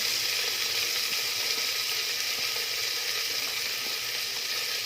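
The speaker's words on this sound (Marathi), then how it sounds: "जिरं आहे ते छान फोडणीमध्ये तळतळलेलं आहे तर त्याच्यामध्ये सगळ्या ह्या भाज्या आहेत त्या मी घालून घेणार आहे" Cabbage and cauliflower go into a hot cumin tempering, producing an even, continuous hiss of frying close by, with no pauses and no talking.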